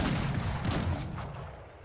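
Cannon and gunfire from a battle in the strategy game Cossacks 3, with dense, continuous booming reports layered over a rumbling low end, loud and steady throughout before easing slightly.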